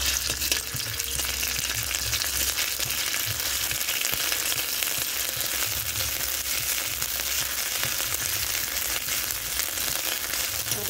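Ginger paste frying in oil in a pan for a fish curry, a dense, steady loud sizzle with stirring scrapes throughout.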